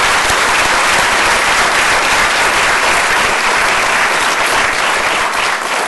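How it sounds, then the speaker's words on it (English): Loud, dense applause from a water and health conference audience for a panel, sustained and even for the whole stretch, many hands clapping close to the recording point. "Can we give all of them another big round of applause, please?"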